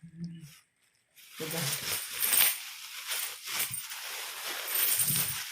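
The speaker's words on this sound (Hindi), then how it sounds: "एक्चुअली इसमें सिक्के ज़्यादा हैं, इसलिए काउंट करके रखना ज़रूरी है।" Many coins are handled and counted at a shop, jingling and clinking in bursts after a brief pause, close and fairly loud, with faint voices now and then.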